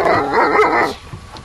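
A dog yelps and whines loudly and close by in a short, excited burst of high-pitched barking that fades out quickly.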